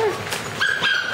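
A six-week-old F1b Labradoodle puppy whimpers in high, thin whines and yips, close and brief, with a bit of human voice in the background.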